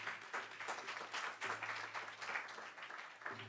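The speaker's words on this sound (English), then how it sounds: "Give them a hand clap of praise." A church congregation claps for its ushers, a fairly quiet, steady patter of many hands sustained for several seconds with no voices on top.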